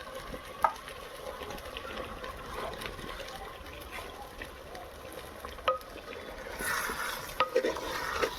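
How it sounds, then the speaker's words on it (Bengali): Chicken meat sautéed in a clay pot over a wood fire sizzles softly and steadily, broken by a few sharp clinks of stirring, with a louder hissing burst near the end. "আমরা মাটির হাঁড়িতে মাংসটা কষাচ্ছি"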